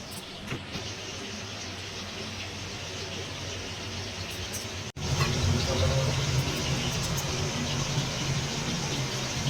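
A kitchen mixer grinder runs steadily, grinding mustard, sesame and green chillies into a paste; its loud motor whirs continuously and briefly cuts out midway before restarting with a slightly heavier, fuller drone.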